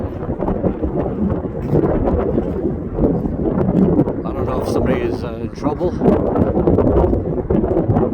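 Strong wind on a mountain in the White Mountains of New Hampshire buffets the microphone in gusty, roaring rushes while someone talks over it.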